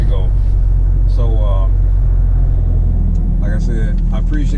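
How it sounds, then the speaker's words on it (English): Constant low cabin rumble of a car moving through surrounding traffic, steady and fairly loud, while a voice talks over it intermittently. "I wish I didn't have all this traffic around me"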